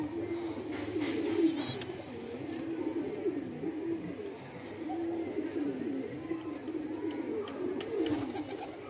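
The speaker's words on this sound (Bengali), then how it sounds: "প্রচন্ড অ্যাক্টিভ, ছটফটে পায়রা, খুব গরম পায়রা।" A lively loft pigeon coos in low, murmuring throbs that repeat continuously at a fairly faint level, with soft rustling of movement and some background noise.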